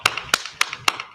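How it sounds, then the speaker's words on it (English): An audience claps in unison at a live show, giving sharp, crisp claps on a steady beat about four times per second, with no talk over them. "Let's clap it up."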